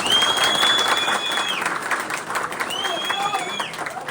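A crowd at a sales organization event applauds steadily throughout, with a voice speaking over the clapping.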